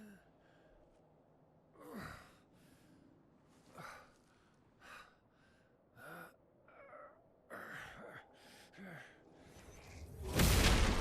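In the video game Clair Obscur: Expedition 33, a lion that turns out to be a cat gives a series of breathy, sighing meows and snorts at a steady pace, ending in a loud whooshing swell of game sound.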